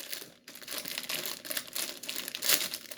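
A noodle flavor packet being torn and opened, giving a close, brief run of crinkly plastic crumpling and tearing with no talk over it.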